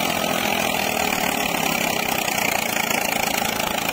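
A tractor, a Farmtrac 6055 or Eicher 485, drives a rotavator with new blades through field soil. Its engine drones loud and steady with a fast knocking pulse for four seconds, and no one speaks.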